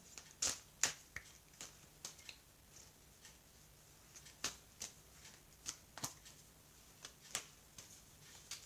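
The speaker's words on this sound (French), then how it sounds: "je vais prendre maintenant les cartes de l'oracle coup de cœur. Je vais les mélanger" A deck of oracle cards is shuffled by hand in a quiet room, producing soft, crisp, irregular riffles and taps spaced a fraction of a second to a second apart, faint and close, with no talking.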